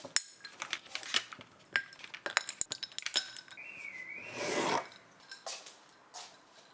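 Heart-shaped ice cubes clink and rattle into a drink glass in a quick, uneven series of bright knocks, followed by a short pour. The sounds are close and fairly quiet, with no talking.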